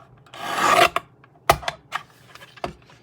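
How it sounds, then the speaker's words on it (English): Paper is trimmed for a mini scrapbook album on a small trimmer, a short rasping slide of the blade followed by several sharp clicks and taps, close and alone. "But I've got my small trimmer. I'm just going to take another hair off"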